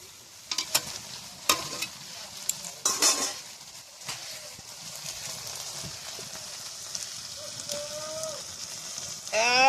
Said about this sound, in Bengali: আমি কিভাবে সিম ভাজা করেছি গাছ থেকে পেরে এনে শুধুমাত্র নুন লঙ্কা হলুদ দিয়ে